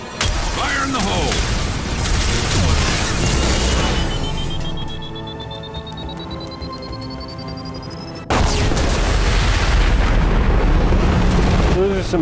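Explosions and gunfire in the video game Mass Effect 2 form a loud, dense roar of blasts and rumbling that runs throughout, with a rising whine in the middle, and a voice talks underneath.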